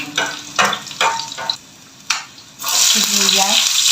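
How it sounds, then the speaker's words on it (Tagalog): Garlic dropped into hot oil crackles and sizzles in a pan. Clattering bursts come first, then the frying hiss swells louder near the end. A voice is faintly present. "So, mainit na ang mantika. Ilagay ko ng bawang."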